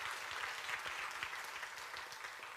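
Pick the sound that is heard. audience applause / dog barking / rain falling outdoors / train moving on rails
audience applause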